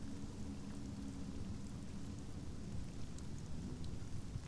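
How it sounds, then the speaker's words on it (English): Steady rain and a low rumbling thunderstorm roll on through the whole stretch in Sunless Skies, a dense, even wash of noise with deep rumble beneath and no voices. "Thunder shakes the trees. Storm's nearing"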